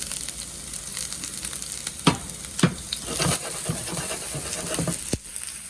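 Scallion, lemongrass stem and green chili fry in a hot pan with a steady close sizzle, broken by several sharp stirring knocks and scrapes, no talking.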